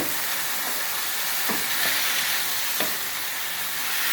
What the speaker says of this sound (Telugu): చిక్కుడుకాయలు కూడా వేసేస్తే వాటితో పాటు చిక్కుడుకాయ కూడా వేగుతుంది కదా